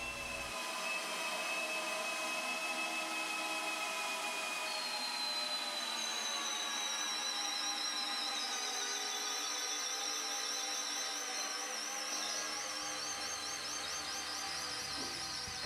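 A Maximum cordless drill from Canadian Tire drives an 18-inch screw through stacked wooden blocks, a steady high motor whine that holds for about twelve seconds, then bogs and stutters near the end.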